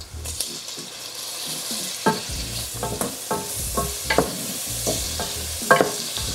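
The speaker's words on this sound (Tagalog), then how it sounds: "add your tomatoes." Tomatoes being sautéed for pork binagoongan over medium heat in a pan: steady sizzling frying with repeated clinks and scrapes of a spatula stirring, close and alone.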